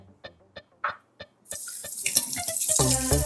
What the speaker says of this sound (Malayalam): പാത്രം കഴുകണ്ടേ